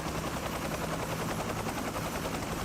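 A military helicopter in an action movie roars loud and close with a steady rapid rotor thump filling the whole scene.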